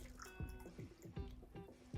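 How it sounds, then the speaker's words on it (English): A cocktail poured into a coupe glass, heard as a series of soft, quick liquid glugs and drips repeating roughly every few tenths of a second, close and quiet. "Pour mine into a coupe glass."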